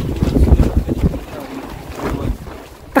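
Strong hurricane wind roars and buffets the microphone in heavy, uneven gusts, with low rumbling and flapping noise throughout.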